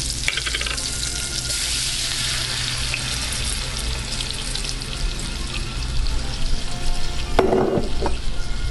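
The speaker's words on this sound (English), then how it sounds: "now let's add some of that tomato sauce" Sausage pieces sizzle and fry in a pan as tomato sauce goes in, a loud continuous crackle with stirring scrapes, and a brief clatter and splash near the end.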